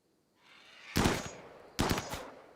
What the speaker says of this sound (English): Yep, that's the assault rifle.